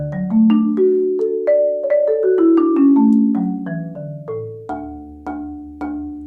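A Mode five-octave marimba rings with its rosewood emulators set a couple of centimeters out from the bars. A quick melodic run of struck notes sustains and overlaps, then settles into a few slower, lingering tones.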